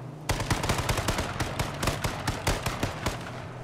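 Rapid bursts of automatic gunfire in the battle-royale game H1Z1 King of the Kill, a dense run of sharp, loud shots at an uneven, fast rhythm lasting several seconds with no talk over them.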